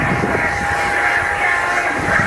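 A Eurofighter Typhoon jet flying slowly at the Fairford airshow gives a steady, loud, broad roar with a sustained whine running through it, unbroken and fairly near.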